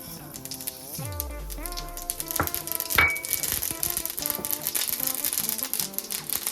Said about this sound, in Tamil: இப்போ எண்ணெய் நல்லா சூடாயிட்டுது முதல்ல நான் இதுக்குள்ளே கடுகு போடுறேன்